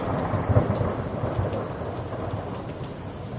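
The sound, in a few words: thunderstorm with heavy rain in a cartoon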